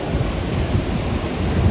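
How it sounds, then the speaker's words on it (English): Ocean surf rolling in at Smiths Beach, a surf beach on a rugged stretch of Phillip Island coastline, a steady loud roar of breaking waves with wind buffeting the microphone throughout. "See the waves coming in"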